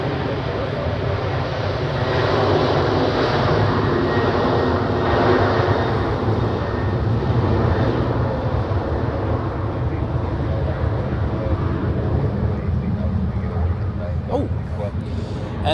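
A heavy airliner lands at Zurich Airport, a steady broad engine roar filling the whole stretch, loud and unbroken, with someone talking over it.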